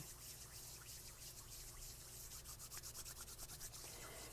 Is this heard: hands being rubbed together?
yes